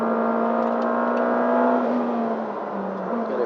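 McLaren Senna hypercar, a 789bhp road-going track car, powering along the circuit at Silverstone with a loud, sustained engine drone whose pitch holds steady then dips slightly as it shifts, heard from inside the car with no talk.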